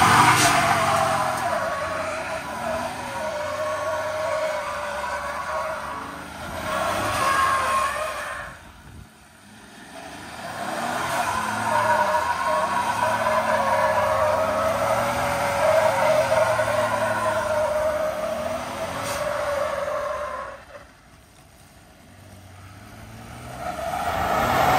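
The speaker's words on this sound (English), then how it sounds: "So we're gonna try and turn off all the safeties today and see if we really get her drifting." A Dodge-modified 2021 Ford F150 pickup with its safety systems off, its engine revving and roaring through long drifting runs, tires scrubbing and squealing, easing off briefly around the tenth and twenty-first seconds.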